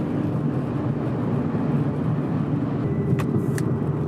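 A car runs fast down the straightaway of the Nürburgring, giving off a steady, sustained roar of engine and road noise that continues without a break. No one speaks.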